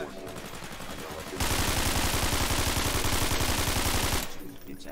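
A sustained burst of rapid automatic gunfire in Garry's Mod (SCP: Containment Breach), loud and close, hammering in a steady rhythm for about three seconds before cutting off.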